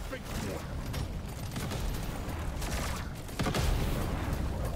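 Incendiary grenade fire in Deep Rock Galactic: Survivor, a steady dense roaring crackle of burning that fills the whole stretch, with faint scattered bursts and a voice talking over it.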